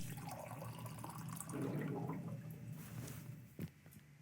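Hot water tap running in a video game horror setting, a steady low gush of water with a brief splash near the end, faint and without voices.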